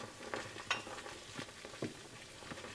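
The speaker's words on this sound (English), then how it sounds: "So just keep stirring" Grits being stirred in a pot on an electric stove for a Southern-style breakfast, with a soft bubbling sizzle and repeated scrapes of the spoon across the bottom of the pot, moderately close.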